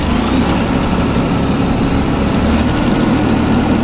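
A Deutz-Fahr Agrolux 70E 4WD CRDi tractor engine holds a steady 1600 rpm, a loud, constant diesel drone with no change in pace, heard close and alone without talk.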